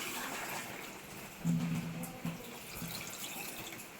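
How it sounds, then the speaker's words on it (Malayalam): Water poured into a pot of bone and tapioca curry as it cooks, a soft, wet splashing and gurgling that swells briefly midway, then settles into quieter trickling against faint kitchen background. "നമ്മൾ വെള്ളം ഒഴിച്ചു കൊടുക്കട്ടെ അത് വേവാൻ വേണ്ടിയുള്ള ആവശ്യമുള്ള വെള്ളം ഒഴിച്ചു കൊടുക്കണം"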